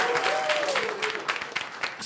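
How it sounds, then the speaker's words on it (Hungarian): Applause from the crowd at a Budapest open mic rap contest follows a contestant in a sustained clatter of clapping, with a voice calling out briefly at the start. "Nagy tapsot a bátyám."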